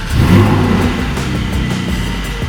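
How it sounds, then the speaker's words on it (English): A 400-horsepower naturally aspirated sports car engine with a PDK gearbox revs loudly and close by, swelling to a peak early on, then holding a steady, throaty drone. "aspirated engine with 400 horsepower"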